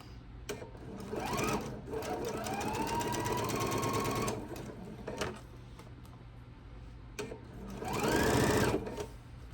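A sewing machine stitches quilt block seams in several close runs, speeding up and slowing down with a whirring rise and fall, separated by brief pauses and faint handling noises.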